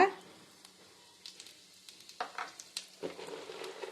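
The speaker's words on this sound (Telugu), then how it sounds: "ఇప్పుడు గీ వేడెక్కిందండి ఇప్పుడు దీంట్లోకి మనం ఫస్ట్ జీరా వేసుకుందాము జీలకర్ర" Cumin seeds sizzle sharply as they drop into hot ghee, a close, crackling fry with bursts of popping and light stirring, no talk over it.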